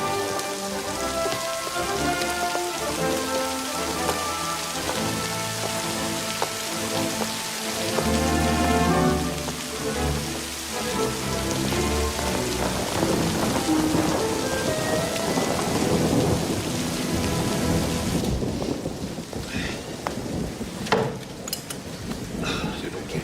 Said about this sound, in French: Quel déluge! Non mais quel déluge!